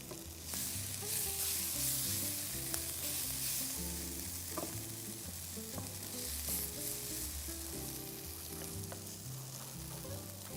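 Onions fry in a hot pan with a steady, bright sizzle and crackle, broken by occasional stirring scrapes, close and continuous with no talking.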